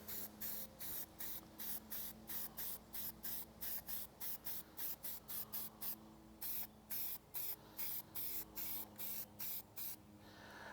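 Wood-tone spray paint goes onto a white plastic medallion in many short, rhythmic hissing bursts, each a second or less, close and clear with brief pauses between.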